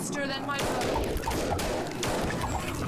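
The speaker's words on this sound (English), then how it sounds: "So now we're gonna be attracting a lot with the gunfire. The gunfire is louder." Rapid bursts of gunfire crackle through the zombie-survival strategy game They Are Billions, dense and continuous shots layered throughout.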